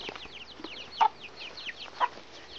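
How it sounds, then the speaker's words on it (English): Chickens clucking in a duck and chicken pen, several soft scattered clucks with two louder calls standing out, fairly close, with a faint background murmur and no talk. "In here, this is all our duck and chicken pen."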